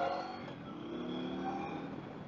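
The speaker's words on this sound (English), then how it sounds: "It's weird being on such a quiet bike." A 2022 Indian Scout Rogue motorcycle runs at a steady, low engine drone while being ridden, faint and muffled under rushing wind, with no talking.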